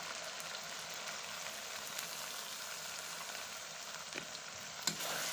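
Ginger, garlic and onion paste frying with turmeric in a pan, giving a steady, soft sizzle with occasional light scrapes and taps from stirring.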